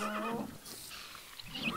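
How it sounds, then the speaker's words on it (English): A horse whinnies in the Minecraft Technic modpack game, a brief neigh at the start followed by quieter game noise, fairly soft overall. "That's a slime horse."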